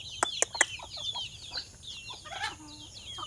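A hen clucks and calls near chicks at feeding time, several sharp clucks and then softer chattering, close and clear, with faint chick peeps.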